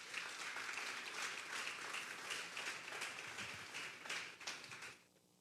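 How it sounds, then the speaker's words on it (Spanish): Congregation applauding loudly during a Sunday church service, a sustained dense clapping that swells and holds for several seconds, then tapers off near the end. "Dale un fuerte aplauso, pues, al Señor."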